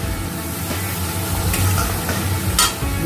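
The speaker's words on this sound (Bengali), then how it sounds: "এবার এটাকে একটু কষিয়ে নেবে।" Fig fritter curry sautéing in a pan, a loud continuous sizzle with soft stirring scrapes and a brief sharper clink near the end, heard close up without speech.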